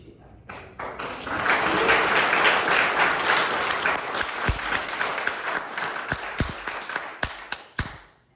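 Audience applause breaks out during a speech, swelling to a dense, sustained clapping from a crowd, then thinning into scattered claps and a few sharp taps as it fades.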